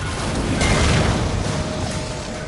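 A galleon blowing up under a direct hit in the Warframe video game: one loud, broad rumbling boom that swells around the middle and rolls on as a dense roar, with no talk over it.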